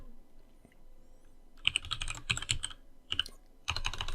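Fast typing on a computer keyboard while writing code, with close, crisp key clicks that come in short bursts separated by brief pauses, at a fairly quiet level.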